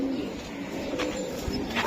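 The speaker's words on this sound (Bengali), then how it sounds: "এইটা হচ্ছে তোতা কবুতর মাদি, খুব সুন্দর মাদি কবুতর" A female Totta pigeon coos with low, soft, rounded calls that sit close by against a steady background hiss. No voices are heard.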